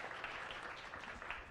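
An audience at a Science Cafe evening at a Museum of Natural Sciences applauds three guests, a steady, fairly faint wash of clapping throughout with no talk over it.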